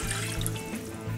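Water pours steadily into a pot on a stovetop for making a glaze, a brief, close splashing trickle with no talk.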